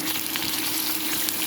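Meat fries in hot oil with onions in a pot for borscht, a steady close crackling sizzle that runs unbroken, with occasional faint stirring and no talking.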